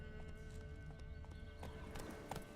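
Roach the horse gallops in The Witcher 3 with a quick, rhythmic clip-clop of hooves and a soft whinny, set against a faint game backdrop.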